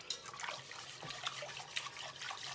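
Chicken broth and plain water poured into a soup pot, a steady liquid splash and trickle with small clinks, fairly quiet and close.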